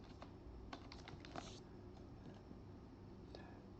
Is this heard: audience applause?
no